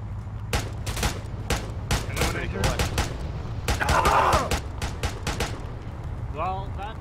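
Enemy gunners in the ARMA III military shooter fire repeated sharp bursts of gunshots, a rapid volley echoing at mid distance with a swell of rumbling fire, while someone talks over it.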